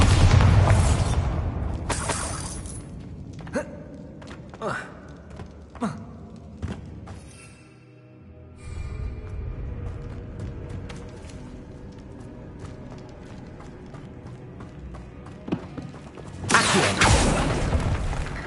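A Bombarda spell explodes in a Harry Potter video game set in a tomb, with repeated heavy booms and thuds over a dense rumbling game soundtrack, then a brief dip to quiet before a louder blast near the end.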